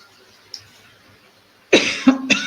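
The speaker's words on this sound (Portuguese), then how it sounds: "tossir de novo" A few sharp coughs in quick succession, close and loud, after a brief quiet pause.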